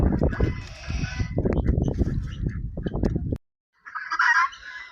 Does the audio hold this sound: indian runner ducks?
yes